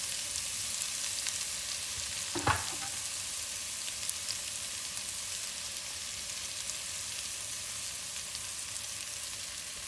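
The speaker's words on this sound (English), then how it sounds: "So now we are going to start frying our onions." Steady sizzling of onions frying in oil and butter, constant and fairly soft, with a single brief clunk partway through.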